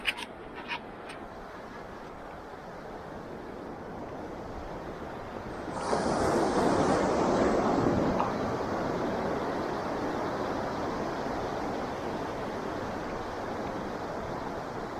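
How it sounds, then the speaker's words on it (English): Ocean surf rolls in with the incoming tide on a beach, a steady wash of breaking waves that swells into a louder crash midway, with wind buffeting the microphone. "Oh, tide's coming in."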